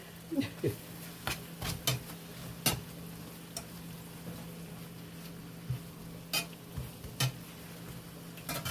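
A metal spatula stirs potatoes, onions and smoked sausage frying in a pan, making irregular sharp clicks and scrapes against the metal over a low steady hum and soft sizzle.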